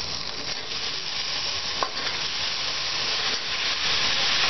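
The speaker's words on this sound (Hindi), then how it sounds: "तेज आँच पे इसको 2 मिनट तक भूनना है सब्जी को।" Potatoes and cauliflower with spices frying over high heat in a pan, giving a loud, steady, close sizzle and hiss with a brief stir partway through.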